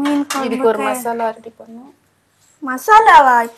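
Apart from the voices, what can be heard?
None of the usual background noises is heard.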